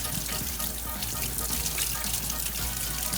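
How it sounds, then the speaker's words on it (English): Tap water runs steadily into a sink after a hand rinse, a continuous close splashing wash with no gaps. "I know I left the water running"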